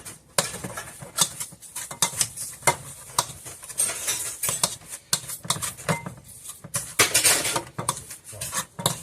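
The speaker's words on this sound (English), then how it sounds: "he's doing dishes again" Dishes being washed in a home kitchen while donuts are made, with irregular clinks, clatters and scraping of dishes and cutlery, close and busy, without talk.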